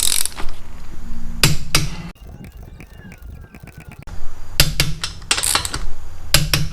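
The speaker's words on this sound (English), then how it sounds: "I gotta lower it down, tighten up the lug nuts." Lug nuts on a 2003 Toyota Matrix front wheel being tightened after a hub and bearing replacement: bursts of sharp metallic clicking and clattering, a quieter gap in the middle, then more loud ratcheting bursts close by.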